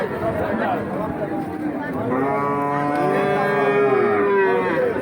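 A Jersey cow at a livestock market gives a long, drawn-out moo close by, while people talk and chatter around it.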